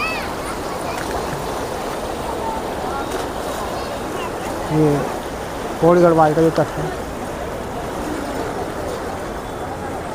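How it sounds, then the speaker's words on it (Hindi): Fast-flowing water of the Ganga rushes past the Pauri Garhwal bank near Janki Setu bridge, a continuous broad roar with someone talking over it. "तो देखिए कितनी तेज़ी से जल प्रवाहित हो रहा है यहाँ पर"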